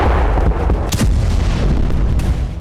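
A continuous loud rumbling roar of rocket attack explosions in Israel with sharp cracks and bursts breaking through, dense and booming throughout.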